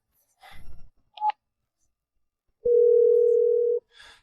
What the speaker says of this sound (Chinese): 你给她打电话，让她回来。